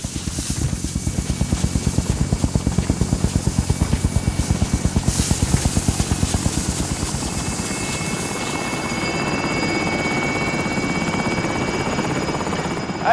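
Helicopter rotor chopping steadily and loudly in a Call of Duty match as it departs, a dense rhythmic thump with turbine whine that shifts and thins toward the end.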